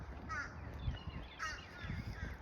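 A crow caws twice at a moderate distance on an outdoor walking trail, each call a short harsh burst standing out against steady rustling background noise.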